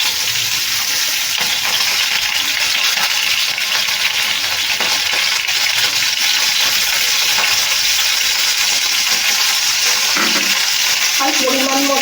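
Soaked split peas (matar dal) go into a hot pan with a bay leaf and fry with a loud, steady sizzle that stays dense and unbroken, with a faint stirring clatter near the end.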